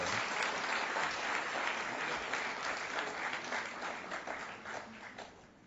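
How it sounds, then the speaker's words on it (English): Conference audience applause, a dense, fairly distant clapping that stays steady before gradually fading out toward the end. "Applause for Nadun Hettiarachchi and his children."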